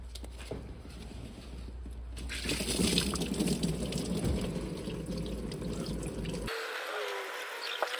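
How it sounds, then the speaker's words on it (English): Engine coolant drains from the lower radiator hose of a Polaris Ranger as a steady, close trickle and splash of liquid that runs for several seconds and then stops abruptly. "at the lower radiator hose is where Polaris recommends you drain the coolant"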